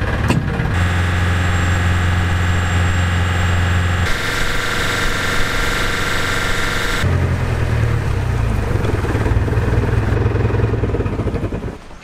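A fishing boat's engine runs steadily as the boat heads out to sea, a loud, close, continuous drone whose pitch and tone change in stages as it shifts speed.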